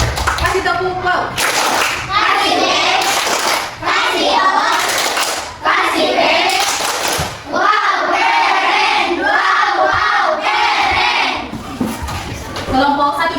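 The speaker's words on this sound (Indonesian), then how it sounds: "kasih tepuk tangan dulu untuk kelompok 3" Audience in an Indonesian school classroom gives a group of pupils a round of applause, loud dense clapping mixed with children's shouts and cheers that runs nearly unbroken, with brief dips.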